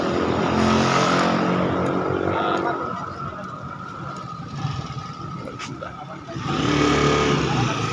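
Loud engine noise throughout, dipping for a few seconds in the middle before swelling again, with faint voices underneath.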